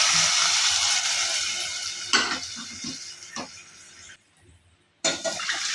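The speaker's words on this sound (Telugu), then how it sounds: "ఇప్పుడు మనం ఏ కప్పుతో అయితే ఓట్స్ తీసుకున్నామో అదే కప్పుతో 1 కప్పుకు 2 కప్పులు వాటర్ వేసుకోవాలి." Water is poured from a cup into a pan for oats upma, a bright splashing pour that gradually fades, followed by a short quiet gap and another burst of pouring.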